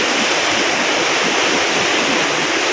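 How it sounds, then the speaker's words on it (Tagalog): Big ocean waves break and wash against a shore, a steady loud roar of surf with constant broadband rush and no talk. "Kasi grabe kalalaking alon."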